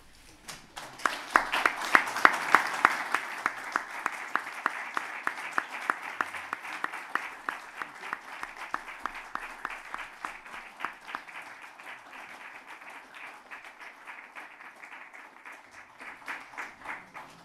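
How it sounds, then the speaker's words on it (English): Audience applause after a speech by Bruno Le Maire at a European policy event, steady clapping from a sizable crowd with distinct individual claps, building quickly then gradually thinning over about seventeen seconds. "the applause that you've just heard"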